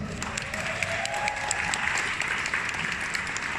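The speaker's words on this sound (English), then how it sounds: "Give her a round of applause," An audience at a Mel Robbins live talk applauds a woman called up from the crowd, giving thick, continuous clapping that stays loud and steady throughout, with a faint voice underneath.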